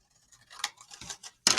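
Scissors snip out a paper piece with a few quick, close, crisp cuts and faint rustles, ending in a louder sharp snip.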